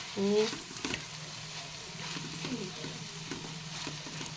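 Tomatoes frying in a pan while being stirred, giving a steady close sizzle with scraping strokes of the spoon; a brief voice sounds at the very start.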